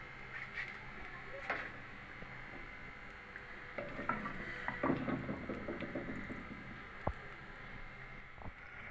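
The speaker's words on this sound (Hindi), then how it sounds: "बस हल्का सा इनको 2 से 3 मिनट हल्का सौते करेंगे ताकि ये नरम हो जाए थोड़े" Onions gently sautéing in a pan, a faint sizzle with soft scraping stirs that pick up toward the middle and include a couple of light clinks, low in level with no talking.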